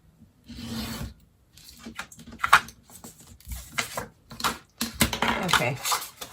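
Paper trimmed for a handmade album makes close scraping and rasping cuts in short irregular bursts with brief pauses between them.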